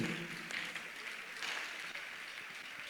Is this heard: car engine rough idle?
no